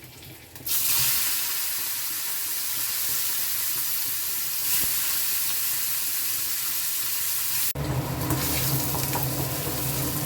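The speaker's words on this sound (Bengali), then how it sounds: "এবার এর মধ্যে আমি দিয়ে দিচ্ছি পেঁয়াজ কুচি" A loud, continuous sizzle of chopped onion frying in oil, the hiss jumping and thickening near the end as the food is stirred.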